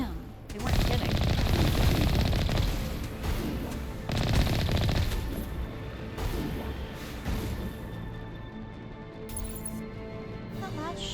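Gunfire in the video game Mass Effect: dense, loud bursts of automatic shots and impacts crowding the first seconds, then scattered shots continuing under a game soundscape, with someone talking over it.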